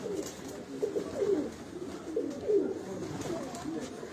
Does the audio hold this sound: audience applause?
no